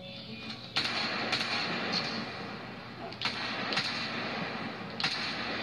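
Sharp single gunshots at target practice in the video game Crysis 3, a handful of separate cracks spaced a second or two apart over a steady low game ambience.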